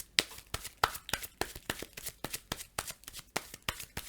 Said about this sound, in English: I'm going to shuffle my deck